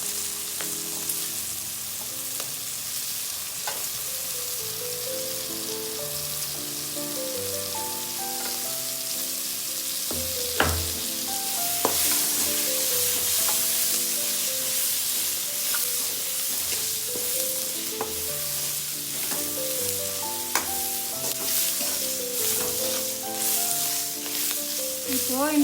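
Crushed garlic fries in a pan for gongura thokku with a bright, continuous sizzle and frequent stirring scrapes and taps, close by, while gentle melodic music plays underneath throughout.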